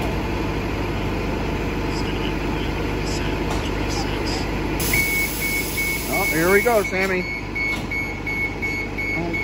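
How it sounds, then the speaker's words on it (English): A Disney World resort bus running between Magic Kingdom and Wilderness Lodge rumbles steadily, then a loud, evenly spaced electronic beeping starts partway through and keeps going while people talk nearby. "he got another bus ride, the loud beeping bus ride"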